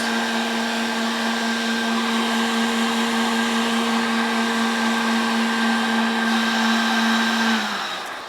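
Coffee roaster blowing a steady stream of air through roasting coffee beans, a constant loud whirring hum with a fixed drone that drops off abruptly near the end as the fan stops.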